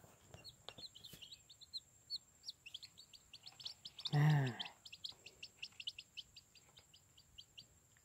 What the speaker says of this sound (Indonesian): ini bukan ayam kampung ini teman-teman ini ayam hutan